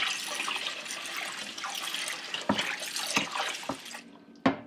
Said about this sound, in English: Start with hot water and you just clean your pan like you normally would with any other kind of pan